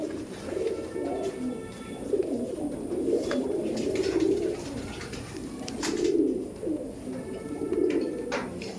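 Giribaj pigeons coo in soft, repeated rolling phrases close by, with several birds overlapping against a steady low background.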